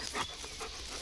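A shepherd dog pants rapidly and steadily up close during obedience training with a food lure, breathing in a quick, even rhythm with no talking.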